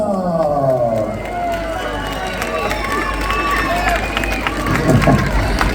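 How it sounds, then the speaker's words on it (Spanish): A crowd at an orchestra concert in A Coruña claps and cheers over lively music, a loud, busy mix of applause and voices throughout. "Fuerte ese aplauso."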